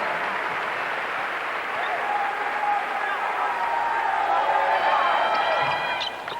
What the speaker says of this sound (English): Gerard Coleman leads to a rousing round of applause